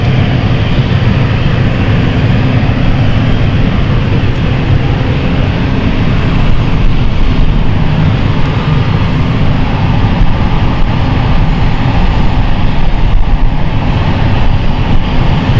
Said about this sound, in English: Frankfurt flight is starting up as well